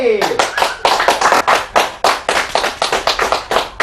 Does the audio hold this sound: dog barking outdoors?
no